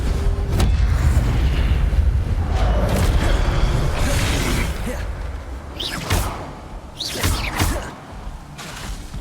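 An Incendio fire spell cast in the game Hogwarts Legacy: a loud, deep, rumbling blast of flame fades into a series of sharp whooshing bursts, close and punchy.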